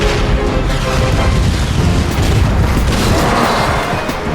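A powerful cannon in an animated cartoon booms in a sustained, heavy rumbling blast, loud and close, with dense low-end roar filling the whole moment and no speech over it.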